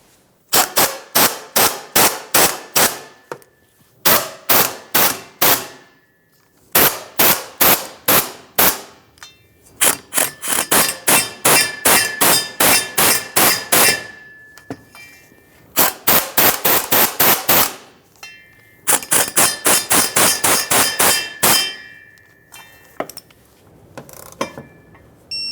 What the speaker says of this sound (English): Now that we have them all started in, we can snug them up and torque these to 26 foot-pounds